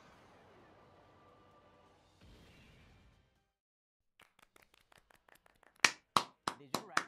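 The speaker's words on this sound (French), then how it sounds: "J'applaudis." A handful of sharp hand claps near the end, loud and close, following a few lighter taps after a stretch of quiet background noise, while playing the game Dragon Ball Z Dokkan Battle.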